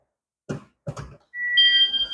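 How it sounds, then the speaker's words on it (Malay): The reverse sensor module buzzer in a Perodua Viva 850 car sounds a steady, shrill electronic tone close by, following two brief dull knocks. "Ada bunyi buzzer."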